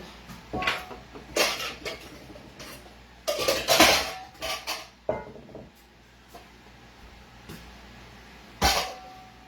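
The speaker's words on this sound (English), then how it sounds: "all these dishes that I'm about to mess up." Dishes, pots, pans and cutlery clatter as they are pulled out in a home kitchen before baking a peach cobbler, with close, irregular clanks and rattles in bursts separated by quieter gaps.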